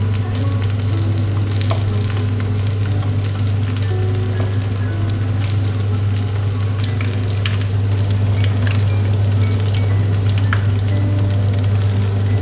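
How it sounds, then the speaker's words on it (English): Breadcrumbed squid rings coated in flour and egg deep fry in hot oil, a loud steady sizzle and crackle with a low constant hum underneath, close and continuous with no talk. "we are almost ready to do our squid rings. And we're going to deep fry those"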